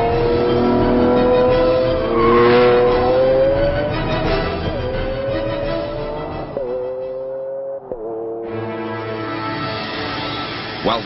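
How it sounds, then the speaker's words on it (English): A Lamborghini Aventador V12 engine revs hard and climbs in pitch through several gear changes, its roar loud and close with brief dips between shifts. "From a moderate rumble through the town at low revs to the screaming crescendo of maxed"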